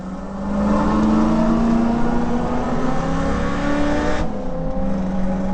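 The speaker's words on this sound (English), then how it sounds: "A very fast car, and he'll pass me pretty quickly" A fast Falcon XE race car fitted with a 6-litre Chev engine, driven at Bathurst during a warm-up session, gives a loud, sustained engine roar with a shifting pitch as it draws close and passes.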